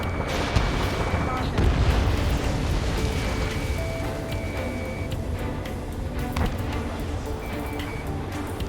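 Combat in the Ace Combat 7 video game, with rapid gunfire and heavy booms over a dense rumbling battle mix and beeping game tones, under radio chatter.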